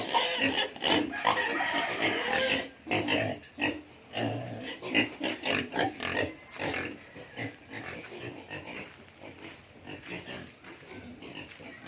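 Piglets about 25 days old on a pig farm grunt, squeal and snort in a continuous busy chorus, fairly close, with the noise thinning toward the end.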